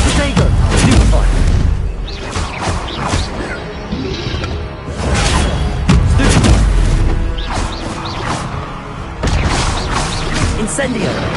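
Spell blasts from the Hogwarts Legacy video game, a Protego shield and Stupefy stun, sound as several loud booming, crashing impacts in bursts, mixed with a voice shouting over the game sounds.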